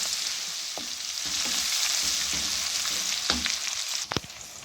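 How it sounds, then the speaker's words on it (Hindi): Ginger garlic paste fries with spices in hot oil, giving a steady sizzle while a utensil stirs and scrapes the pan a few times, with a louder clatter near the end and no talking. "1 टेबल स्पून अब अदरक लहसुन का पेस्ट"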